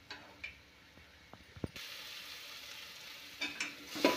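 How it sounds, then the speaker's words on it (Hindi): Chana masala spice paste cooks slowly in a pan with a low, steady sizzle, broken by a few scraping stirs and soft clinks, then a brighter hiss near the end. "अब मसाला हमारा 5 मिनट तक अच्छे से पकेगा ये"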